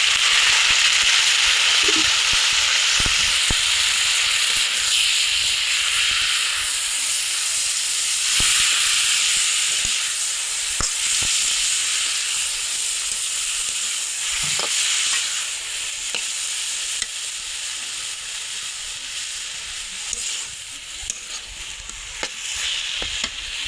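Boiled Malabar spinach is tossed into browned onions frying in oil, giving a loud, steady sizzle close by, with scraping stirs and sputtering pops throughout.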